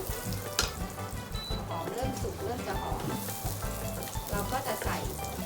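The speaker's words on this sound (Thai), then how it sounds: "เริ่มที่เจียวหอมแดงก่อนค่ะ เจียวหอมแดง" Shallots frying in oil for Pad Thai make a loud, continuous bubbling sizzle with stirring scrapes, close up, while someone talks intermittently over it.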